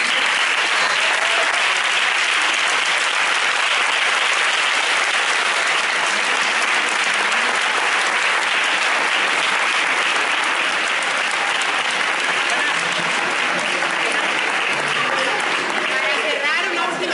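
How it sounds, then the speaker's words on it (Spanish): A theatre audience at a social theatre showcase of "El Principito" applauds continuously, a dense, loud wash of clapping that fills the whole stretch without letting up. "Y un aplauso, un último aplauso,"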